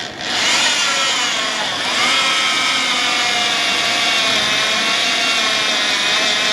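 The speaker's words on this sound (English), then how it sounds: "So we're going to drill one more hole, this front one only, not the rear," Steady, loud power-tool whine of a drill boring a 5/8 inch hole in a Ford Super Duty frame for a traction bar kit install, running continuously throughout with a pitch dip near the start.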